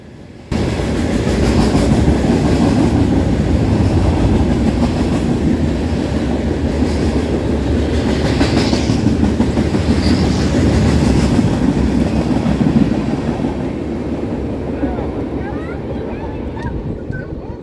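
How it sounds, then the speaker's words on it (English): Two freight trains rolling past at the same time, a steady loud rumble and rattle of railcars on track that holds for most of the stretch, then fades slightly toward the end. "two trains were going by at the exact same time"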